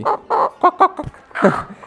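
Fancy rooftop-kept chickens clucking nearby, a quick run of short, bright clucks in bursts followed by a longer squawky call.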